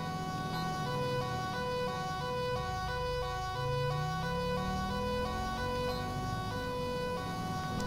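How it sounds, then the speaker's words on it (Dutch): Stacked wailing siren tones in GTA 5 with the LSPDFR police mod, steady and fairly loud, with a lower tone gliding up and down underneath while sirens blare on without a pause. "Het luchtalarm gaat buiten af, hoor ik."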